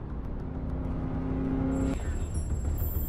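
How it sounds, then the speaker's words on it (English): A road vehicle rumbles past on a street during a police pursuit of a suspect's car, a steady low drone that rises and fades, with faint high tones above. "Vehicle is passing EST 47"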